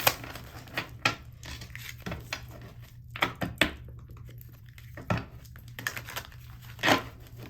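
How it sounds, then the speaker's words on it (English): Tarot cards being shuffled, soft irregular crinkly flicks and taps close by, fairly quiet with short bursts spread across the stretch and no talking. "let's give this one more good shuffle."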